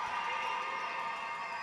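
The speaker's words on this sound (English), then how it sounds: "wow, the crowd erupts" A roller derby crowd cheering in a steady, bright roar, loud and sustained throughout.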